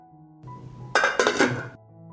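A metal lid is set onto a pot of water-filled jars on the stove, a single bright clatter and clink lasting under a second amid quiet kitchen background.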